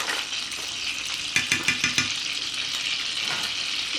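Kerrygold butter sizzles in a pan for shrimp scampi, a steady close hiss with a short run of soft clicks and pops partway through.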